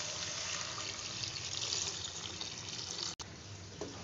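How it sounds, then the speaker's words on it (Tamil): Tamarind water pouring into a pan of fish curry in a continuous steady stream, with a brief break near the end before the flow resumes. "இப்போ நான் வந்து புளி கரைச்சி வச்சிருந்த தண்ணியை மிக்ஸ் பண்ணிக்கலாம்."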